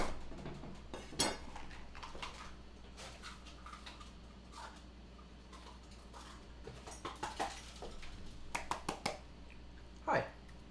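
A knife slices a red pepper into julienne strips on a board, a run of light taps and clicks with a quicker cluster near the end, under intermittent talk.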